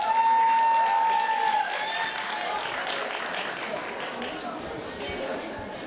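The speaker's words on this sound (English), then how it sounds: "Let's give her a round of applause." Sustained applause from a pageant audience as the winner of a Miss Africa Texas contest is celebrated, a steady dense wash of clapping at fairly close range with faint crowd chatter mixed in.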